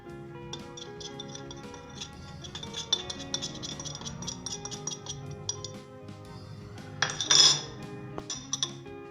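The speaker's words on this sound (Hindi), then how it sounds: "सबसे पहले अंडे को हम बीट करेंगे।" Eggs are beaten in a bowl with red chili powder, salt and Italian herbs, a fork or spoon clinking rapidly and steadily against the bowl's side with a few sharper knocks near the end.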